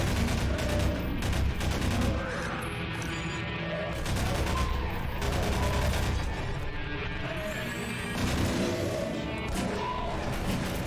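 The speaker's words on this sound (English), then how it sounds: "They fire flechettes at you too." Hunter flechette fire in Half-Life 2: Episode Two: dense, loud volleys of rapid shots and impacts roll on almost without a break for about eleven seconds, with heavy low thumps underneath.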